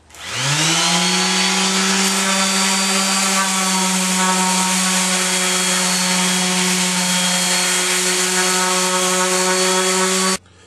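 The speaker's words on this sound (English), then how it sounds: "pressing too much on the sander, you can strip off the veneer" A power sander with 100 grit paper works over a veneered cabinet door, a loud, steady high whir that spins up at the start and runs evenly for about ten seconds before cutting off abruptly, close and without voices.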